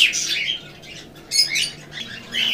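Pet birds at Tongi bird market chirp in quick bright bursts, several calls overlapping at close range over a low steady hum of background noise.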